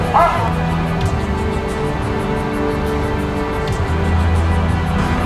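A five-year-old Belgian Malinois police K-9 from the Albuquerque Police Department gives close, excited yips and barks mixed with whimpers, over low background vehicle noise.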